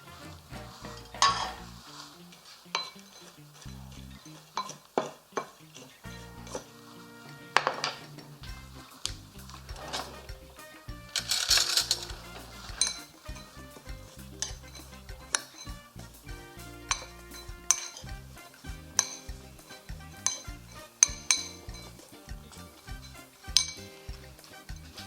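Roasted chickpeas and cauliflower are tossed into a salad, irregular clinks, scrapes and soft thuds of utensils against a bowl continuing throughout, close and moderately quiet.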